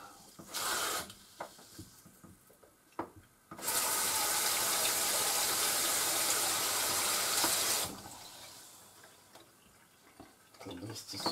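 Warm tap water gushes into a measuring cup for several seconds, loud and steady, with a brief splash earlier and quiet handling sounds before and after.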